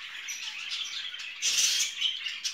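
Pet birds kept in cages indoors at home chirp and tweet in quick bright bursts, with a slightly busier flurry midway, at moderate distance and with no voices.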